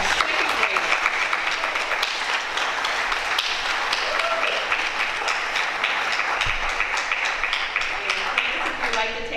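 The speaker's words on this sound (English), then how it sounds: "if we can give them a round of applause" An audience at a school board of education meeting applauds a group of second graders with sustained, dense clapping from many hands that stays even and loud for the whole stretch.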